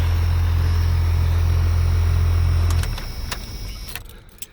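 An idling truck engine rumbles steadily up close, then cuts off at once, leaving a fading residual hum and a few small clicks and rattles.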